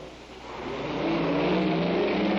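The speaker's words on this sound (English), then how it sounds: "The massive 100-ton truck moves into the pocket to be side dumped." A massive 100-ton truck at a mine moves into a loading pocket for side dumping, its heavy engine droning low and swelling louder as it approaches, a continuous mechanical roar with no voices.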